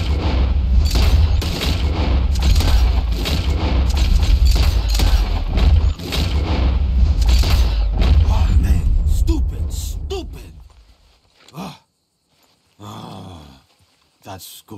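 Loud gunfire in Red Dead Redemption 2, fired at flying birds during a shooting challenge: dense, overlapping booming shots roll on for about ten seconds, then give way to a few short, scattered sounds.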